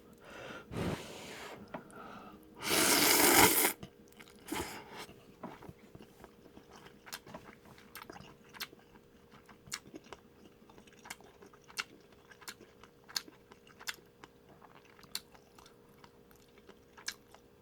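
Someone eats jjajangmyeon, black bean sauce noodles, up close, with a loud slurp early on followed by a long run of soft, regular chewing and smacking sounds.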